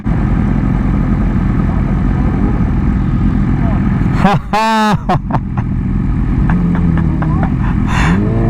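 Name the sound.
BMW M1000RR motorcycle engine revving while riding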